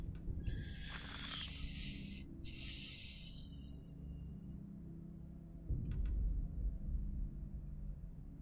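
Snorting, squealing pig monster grunts from the video game Amnesia: A Machine for Pigs in two bursts early on, then a low rumbling and a brief crackle later; synthetic, game-like, moderately loud.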